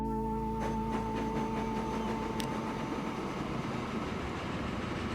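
A train rolls along rails in the Transport Fever 2 game, a steady, even rumble that stays loud throughout with a faint clatter, and no one speaks over it.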